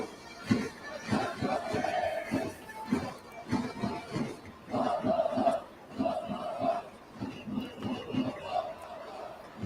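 An Eagles Ouendan cheering squad chants at a professional baseball game between the Eagles and Marines in Japan, rhythmic call-and-response shouts in repeated bursts with a crowd murmuring underneath, moderately loud and steady throughout.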